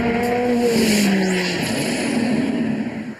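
A car engine fitted with a bolt-on supercharger revs with a rising whoop and whine, loud and close, sliding pitch as it accelerates before easing off at the end.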